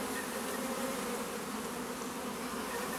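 Honey bees swarm around an open beehive during a colony inspection, a dense, even buzz that stays close and steady with no pauses and no voices.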